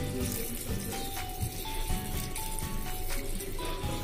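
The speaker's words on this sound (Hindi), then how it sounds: "हम पानी डालेंगे" Water is poured into a pot of soaked, washed lobiya beans set up for boiling, a steady, continuous splashing pour with a faint rattle, and soft musical tones beneath it.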